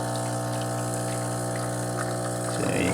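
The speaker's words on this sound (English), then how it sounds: "So you can see the coffee pouring into the cup." A Trevi Spidem digital drip coffee maker pumps and pours coffee into a cup, giving a steady close whirring hum with a gurgling liquid rush, shifting near the end.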